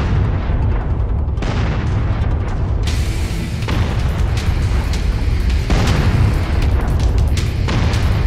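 Artillery explosions in the video game Mechwarrior 5 Mercenaries deliver continuous loud, deep booms and bursts layered over one another, with heavy low rumble throughout the battle mission.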